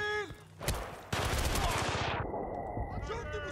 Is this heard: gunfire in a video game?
yes